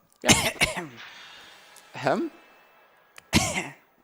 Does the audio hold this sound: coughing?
yes